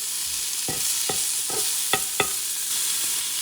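Vegetables and burger meat sautéing in a pan under a constant hiss of sizzling, with five or six distinct spatula scrapes knocking against the pan up close and no speech.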